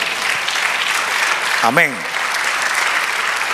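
A church congregation applauds steadily throughout, the dense clapping briefly joined by a single voice calling out over it.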